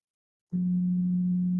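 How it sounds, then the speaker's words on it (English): A pure sine wave tone, a single steady low hum that starts abruptly after a brief silence and holds at constant loudness to the end. "it's a pure sine wave"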